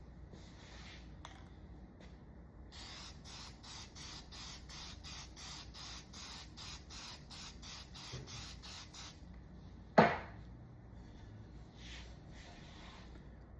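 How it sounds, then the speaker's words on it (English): Lacquer is sprayed onto a piece of bubinga wood in a workshop, heard as a run of quiet, evenly pulsed hissing bursts followed by a single sharp knock. "Let's take a little lacquer to it and see it change colors."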